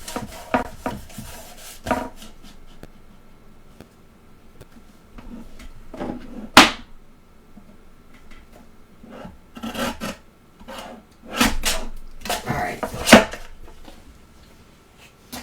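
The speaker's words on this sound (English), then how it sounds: "So let's go ahead and trim this." Card stock being trimmed on a paper trimmer during a stamped card project, heard as a series of dry rubbing slides and rasping blade strokes, with a sharp cut near the middle and louder passes toward the end, close and without talk.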